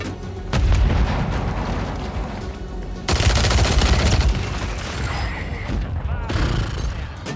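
The BAS-B gun in a video game fires in loud, close bursts of rapid shots layered with low booms and background battle noise.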